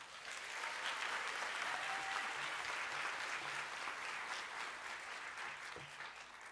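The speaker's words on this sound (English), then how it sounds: "Let us give our scholars a round of applause." A graduation-ceremony audience applauds the high school class of 2024 with sustained, even clapping. The crowd sounds fairly distant and soft and keeps up a steady wash for several seconds.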